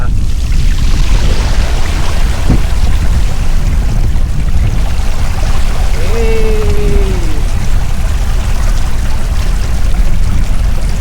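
An electric bike wades through flood water deep enough to reach the footboard, with a loud, continuous rush and splash of water filling the whole scene and a brief whine partway through.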